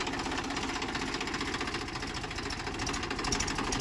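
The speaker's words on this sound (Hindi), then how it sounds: "हो गया भाई ट्रैक्टर स्टार्ट" A tractor engine runs steadily after starting, with a continuous close rumble and rapid knocking pulse at an even idle.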